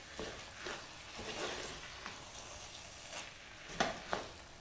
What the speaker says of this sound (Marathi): हा तांदूळ या कोंबीबरोबर चांगला परतून घ्यायचं आहे